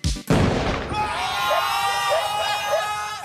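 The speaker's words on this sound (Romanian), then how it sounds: "aici nu exploda vreo bombă. Era o petardă" A firecracker pops sharply at the start, a loud burst followed by crowd noise and shouting that fills the rest of the moment.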